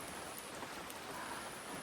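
Steady rain falling outdoors near an old broken-down hut in the Philippines, a soft continuous hiss with no voices, faint and unbroken throughout.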